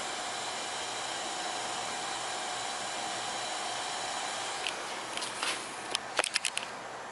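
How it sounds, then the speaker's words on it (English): Small cooling fans on cheap motorcycle LED headlights running with a steady, quiet whir like a computer fan, faint and continuous, with a few light knocks near the end. "You guys can hear the fans going."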